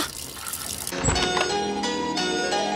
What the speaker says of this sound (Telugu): నువ్వు ఫోన్ చేసినప్పటి నుంచి ఆ ట్యాప్ కారుతూనే ఉంది